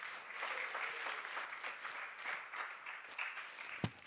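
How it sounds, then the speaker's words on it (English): Audience applause at a university alumni breakfast, a roomful of people clapping continuously at a moderate distance, with one sharp knock near the end. "Let's give them another round of applause."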